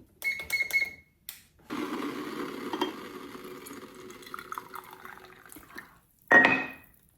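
Hot water poured into the bottom chamber of a metal stovetop coffee maker, a steady splashing pour lasting several seconds, preceded by a few clinks and ending with a sharp metallic clatter.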